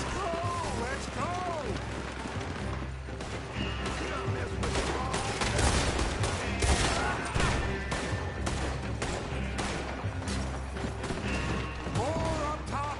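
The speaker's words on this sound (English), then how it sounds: "More up top here! Gun them down!" Rapid gunfire of a shootout in Red Dead Redemption II, with repeated shots and bursts going off steadily under shouted game dialogue and mechanical clatter throughout.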